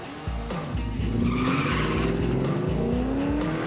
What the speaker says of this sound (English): it's time to sweat it all out with a little drag racing.